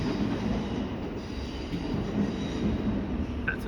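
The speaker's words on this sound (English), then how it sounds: "Another train arriving in a minute." Auckland Transport train pulling into Newmarket station, a steady low rumble of rolling wheels and carriage noise close by, with a brief squeal near the end and no talk.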